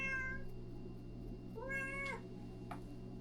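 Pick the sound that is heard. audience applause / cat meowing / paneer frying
cat meowing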